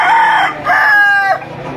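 An 11-month-old banded rooster at the Lipa chicken auction market lets out one loud, close crow in a rising and falling two-part call, alone without talk.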